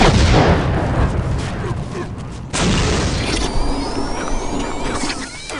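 Rocket firing and exploding in a Postal game, a loud close blast roaring and fading, then a second sharp burst with hissing trails afterward.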